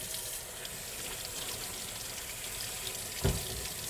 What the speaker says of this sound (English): to clean zucchini, you just run it under cool water